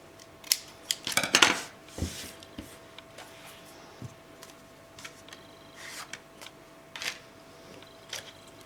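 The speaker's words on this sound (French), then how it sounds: "Et je vais les couper aussi comme ça pour ne pas qu'ils se voient." Scissors cut small leather flaps for a steampunk leather album page, making a quick cluster of crisp snips early on and then sparse, quiet clicks and snips close by, with no talking.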